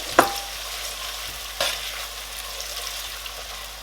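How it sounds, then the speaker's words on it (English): Onions, ginger and garlic fry in oil in a pot for a smoked mackerel fish stew, a steady close sizzle broken by two sharp bursts as ingredients hit the hot oil or a spoon strikes the pot. "So now I'm going to add my onions and I'm also going to add my ginger and garlic"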